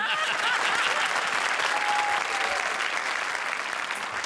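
Studio audience at a comedy show applauding, a dense, steady wash of clapping that holds at even loudness throughout without voices.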